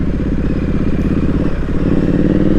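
A motorcycle engine running steadily on a ride, a loud close continuous rumble with a pulsing mid-range drone and light clatter throughout.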